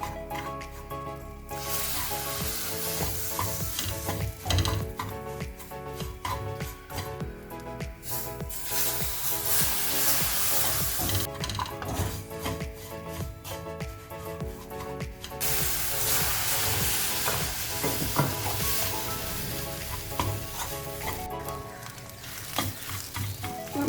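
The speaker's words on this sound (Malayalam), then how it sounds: "കുറച്ച് ഒഴിച്ച് ഇങ്ങനെ നന്നായി ഇളക്കി കൊടുക്കാം" Hot water is poured into corn uppumavu (Kerala-style cholam uppumavu) and the mix is stirred hard, making loud hissing sizzle and wet, squishy scraping that surges and eases over a long stretch.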